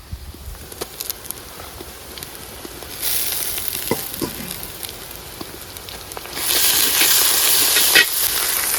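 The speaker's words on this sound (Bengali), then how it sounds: "এখন আমরা দিয়ে দিচ্ছি আদা বাটা" Ginger and garlic paste frying with browned sliced onions in a pan, a steady sizzling hiss that swells loudly when the paste goes in, with a few clinks of a spoon.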